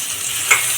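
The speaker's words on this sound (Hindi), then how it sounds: "इसको हल्का फ्राई कर लेंगे।" Ginger, garlic and green chili sizzle steadily in hot oil in a pan over a medium flame for sarson ka saag, a close continuous hiss with one brief stir scrape, no talking.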